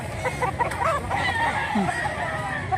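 A fighting rooster, a young bullstag, crows amid several clucking fowl outdoors, the crow rising and falling over steady background chatter of birds and ambient noise.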